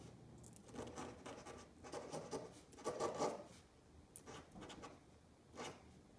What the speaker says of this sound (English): So I'm going to just draw this little person.